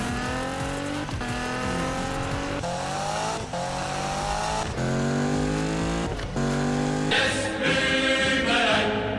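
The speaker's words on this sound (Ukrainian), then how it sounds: "А зараз демонстрація звуків цих авто." Racing car engines from the video game Need for Speed (2015) revving up and down through gear shifts, rising whines repeating in loud bursts, with a tire squeal near the end.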